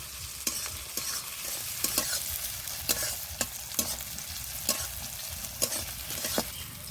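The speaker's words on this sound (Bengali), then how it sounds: "টমেটো আর পেঁয়াজটা ভালো করে ভেজে নিতে হবে" Chopped tomato and onion fry and sizzle in a pan for an egg and spinach dish, a steady hiss broken by sharp clicks of a spoon stirring against the pan at irregular intervals.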